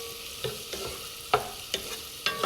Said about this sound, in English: So you guys just stir it until you can smell the onion.